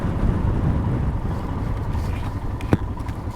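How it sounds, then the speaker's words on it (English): Strong gusting wind buffets the microphone of a rider on a Royal Enfield Himalayan motorcycle, a dense, steady low roar that carries through the clip with one sharp thump near the end. "And this wind is nuts today."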